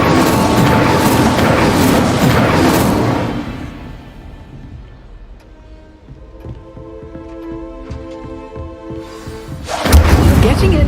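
An Incendio fire spell cast in Hogwarts Legacy bursts with a loud, broad whoosh and boom, fades into a quiet rumbling stretch, then a second heavy burst lands near the end.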